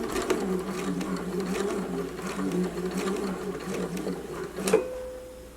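Sewing machine stitching a double pointed dart in fabric, a steady close mechanical whirr with a rapid needle rhythm running for several seconds before stopping with a short click.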